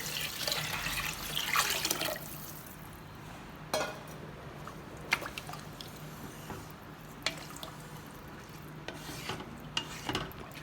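Six cups of water go into a pot of rice and moong dal for pongal in a home kitchen, a faint, steady splashing pour with a few sharper clinks of vessels, heard close with no talk.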